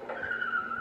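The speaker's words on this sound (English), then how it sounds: "Now that's what you call a drift." Porsche sliding sideways in a racing video game, its tires letting out one sustained, loud skidding squeal that holds steady under the engine drone for just under a second.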